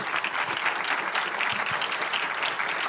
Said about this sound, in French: on peut t'applaudir bien fort